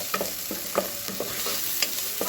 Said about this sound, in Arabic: هسيب البصله بس تتشوح شويه كده معايا